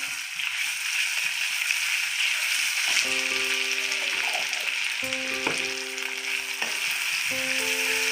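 Green chili, garlic and ginger paste frying in a pan, a steady loud sizzle throughout with a few light clinks of a utensil against the pan.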